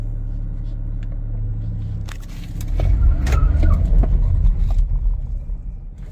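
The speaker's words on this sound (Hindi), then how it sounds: "मैं गाड़ी चला के भी आपको ये सेम चीज़ दिखा देता हूँ।" A Toyota Hyryder hybrid car on the move, with a low, close cabin rumble that swells as it accelerates, a few clicks and rattles mixed in, then fades near the end.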